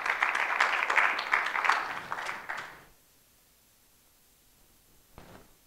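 A church congregation claps together at a Sunday service, a dense, loud burst of applause that fades out after about three seconds, followed by near silence and a brief faint stir.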